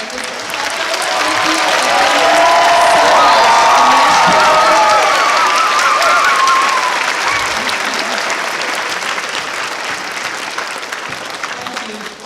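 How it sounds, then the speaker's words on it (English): A school concert audience gives a loud, sustained round of applause for the chorus conductors after an all-county chorus performance, swelling early and then slowly tapering with scattered cheers. "let's give one more round of applause to Dr. Gravel and Mr."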